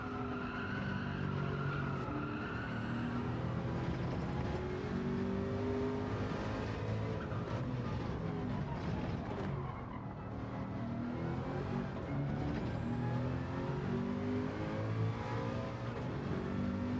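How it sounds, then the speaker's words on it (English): Race car engines roar and rev in Gran Turismo 7 at Le Mans and Watkins Glen, with shifting pitch, gear changes and intermittent tire squeal, loud and continuous without speech. "Man, these cars sound awesome."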